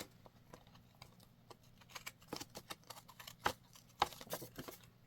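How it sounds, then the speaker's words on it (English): Scissors snip off the extra corners of a handmade card, a run of small close crisp cuts and clicks that grows denser and sharper toward the end, with no talking. "And just cut off the extra corners"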